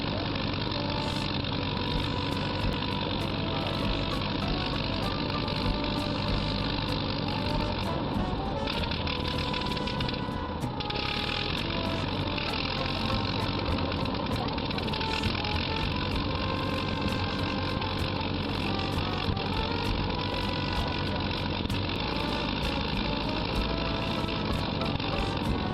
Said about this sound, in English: Let your ears sink into the smooth British tone of the resilient Rolls-Royce Merlin